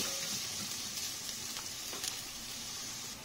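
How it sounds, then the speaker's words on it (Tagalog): Garlic and onion sautéing in a pan for a homemade spaghetti sauce, giving a steady close sizzle and hiss with faint stirring scrapes throughout, no talk. "Igisa na natin ang mga sangkap na bawang, sibuyas."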